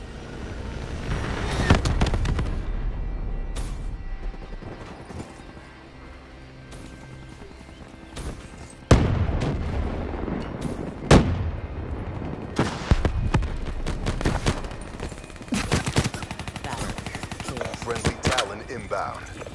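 Hellstorm missile strike in a first-person shooter video game: a sharp, loud burst of explosions followed by repeated booming impacts and crackling blasts that scatter through the rest of the clip, with some game voice in the background.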